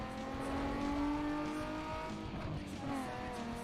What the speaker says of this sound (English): It does make Supra noises.